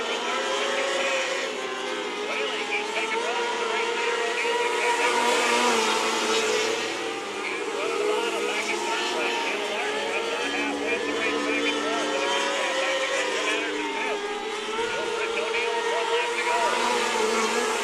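Micro sprint race cars circling US 24 Speedway in a HART NW Micros night race, their engines droning and whining together in a steady, loud pack roar that swells and fades as they pass, with a commentator talking over it throughout.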